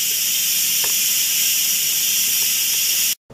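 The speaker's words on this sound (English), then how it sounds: "we'll just wait for the steam to completely release" A loud, steady hiss of steam escaping under pressure from an Instant Pot pressure cooker runs continuously, then cuts off abruptly near the end.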